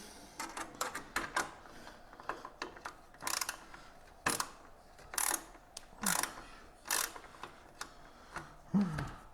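Small parts being screwed together on a Tamiya 1/14 Grand Hauler model truck body: a run of quick, close clicks, ticks and scrapes of plastic and metal in irregular bursts, with no talking.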